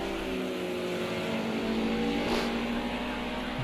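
Touring car engines drone loudly and steadily in a BTCC racing game, a dense continuous roar with the pitch rising under acceleration and one car briefly sweeping past mid-way.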